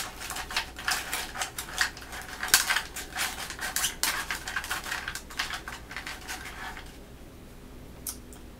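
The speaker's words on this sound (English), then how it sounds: "I have this little dish of cards, and I want to draw one out." Tarot cards shuffled and drawn from a small dish, giving a close, light clatter of quick taps and rustles in an uneven patter that thins out toward the end.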